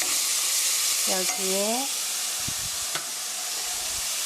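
Ground meat frying in a pan for mapo tofu gives a steady, close broadband sizzle with a few stirring scrapes, and a short voiced phrase rises over it early on.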